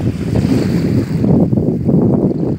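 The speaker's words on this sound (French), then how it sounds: "la mer, les vagues" Sea waves surge and wash in a loud, steady roar on the Var coast, with a swell building and easing, mixed with wind rushing across the microphone.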